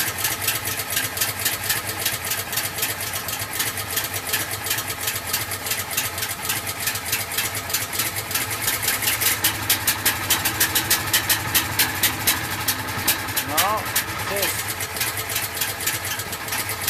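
A truck engine idling after a cold start, a steady dense rattling drone that rises slightly in the middle, close and continuous with no talk.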